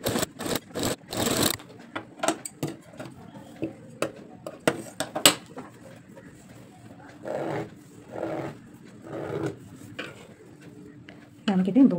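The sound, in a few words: sewing machine stitching a blouse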